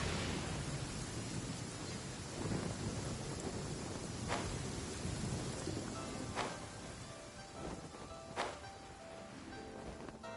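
Steady rain hisses in Genshin Impact, with a few sharp, distant thunder cracks breaking through the quiet, even downpour.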